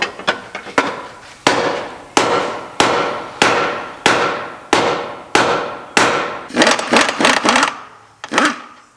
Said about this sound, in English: Smack it right there while you pull down.